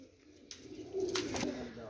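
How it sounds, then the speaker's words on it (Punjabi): A pigeon coos softly on a rooftop in Jhelum, one short low burring call rising near the end, faint and close against quiet surroundings. "ਕਬੂਤਰ ਬਹਿ ਗਿਆ"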